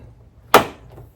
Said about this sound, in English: just start pushing down and you'll hear it click